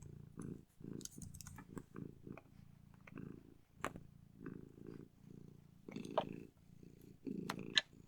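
A cat purrs steadily close by in rhythmic low pulses, with scattered clicks and light tapping over the top and no talk.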